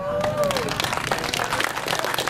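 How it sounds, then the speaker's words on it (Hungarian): Audience applause at an outdoor country fair, a steady wash of clapping from a crowd that continues for a couple of seconds, with a voice briefly audible at the start. "Ne tapsoljunk előre"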